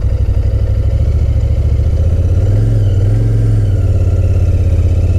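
A Royal Enfield FF 650 Cafe R motorcycle engine runs loud and close while riding, a steady throbbing drone whose pitch dips briefly and then recovers, like a gear shift.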